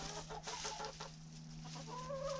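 Hens clucking in short bursts at close range inside a henhouse in winter, pecking at cabbage, with a steady low hum underneath and a higher drawn-out call near the end.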